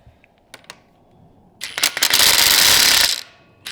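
An impact wrench or ratchet works the motor nut off a Surron electric bike during a Torp TM25 motor install, a few light clicks and then a loud, sustained whirring rattle of about a second and a half that stops abruptly.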